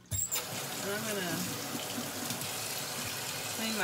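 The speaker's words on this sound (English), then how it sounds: "clean my knife with soap and water" Water runs from a kitchen tap in a steady stream while a knife is washed with soap, with a brief clatter at the start and faint handling noises throughout.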